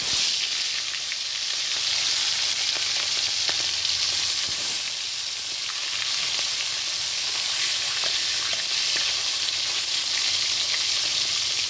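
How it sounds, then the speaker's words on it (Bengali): Folui fish frying in hot mustard oil in a kadai, a loud, dense, continuous sizzle with crackling spatter, close up and with no talking throughout. "এবার মাছগুলো আমি ভেজে নেব"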